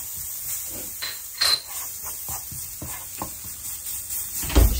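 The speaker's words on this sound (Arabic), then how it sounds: "مش عايزه احرقها بس احمر الثومه." Garlic and chili pepper fry in a small amount of hot oil, giving a steady close sizzle and hiss with occasional scrapes and clinks of a spoon stirring in the pan.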